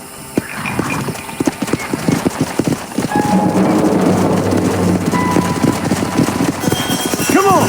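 Horse riding in the Western game Red Dead Redemption, close rhythmic clip-clop of hooves at a quick gait, a horse whinnying near the end, with speech partly over the hoofbeats.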